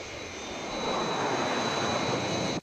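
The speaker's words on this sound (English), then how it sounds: "Aircraft approaching glide path. 4 miles to threshold." Fireflash airliner with jet engines on final approach, a steady loud roar with a high whine that swells slightly and holds before cutting off abruptly at the end.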